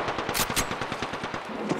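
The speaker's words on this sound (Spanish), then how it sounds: "Me están disparando." Rapid automatic gunfire in the battle royale game Apex Legends crackles in a fast, steady burst of closely spaced loud shots, with two sharper cracks near the start and no talking.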